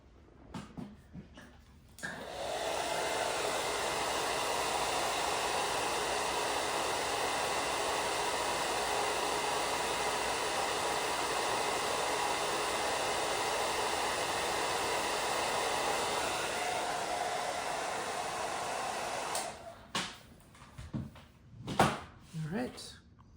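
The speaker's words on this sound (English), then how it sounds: "I'm gonna give it a quick once over with the hair dryer" A hair dryer blows steadily for about seventeen seconds in a close, loud, even rush of air, used to dry a painted miniature base, with brief handling knocks before and after.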